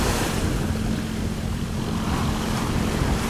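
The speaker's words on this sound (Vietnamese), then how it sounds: "Đây có chiếc tàu nhỏ các bạn, có hai anh em này chạy nha" A small iron boat motors out onto a rough sea, its engine drone buried in a steady wash of waves and wind noise, loud and unbroken with no talking.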